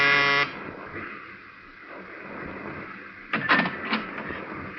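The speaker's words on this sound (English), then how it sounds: "but I pushed the buzzer anyway" A door buzzer sounds in an old-time radio detective drama, a steady harsh electric tone held for about half a second at the start, followed by quieter room noise and a few faint knocks or rattles.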